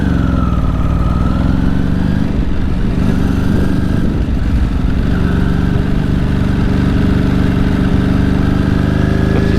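A 2006 Ducati 749 motorcycle engine on the road while riding, a loud close steady drone with a rising and falling pitch as the revs change.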